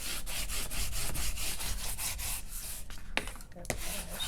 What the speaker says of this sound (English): Let's give that a good burnish.